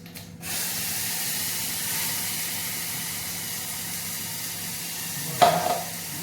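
Spices hit hot oil in a pan for tondekai bassaru with a loud, steady sizzle, and a sharper burst of frying spits near the end.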